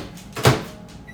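A kitchen microwave oven door is opened and shut, producing a single fairly faint thud with a brief latch click in the middle, surrounded by quiet room noise and no talking.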